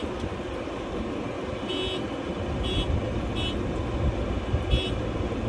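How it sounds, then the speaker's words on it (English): The horn of a big blue tractor gives four short beeps at a steady pace over a low idling engine rumble, close and clear. "Oh, the horn's right here."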